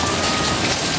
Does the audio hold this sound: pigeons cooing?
no